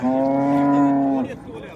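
A dairy cow at a livestock market gives one loud, close, sustained moo that drops off sharply at the end.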